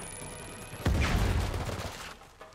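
A grenade explosion in the video game Uncharted 4 lands as one sudden loud blast that rolls into a decaying rumble, followed by a fainter thump near the end.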